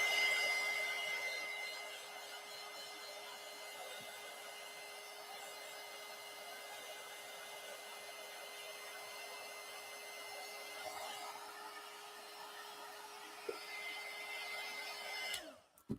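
A hair dryer blows steadily for about fifteen seconds, drying gold paint on a paper collage, with a constant hum and airy rush that cuts off abruptly at the end.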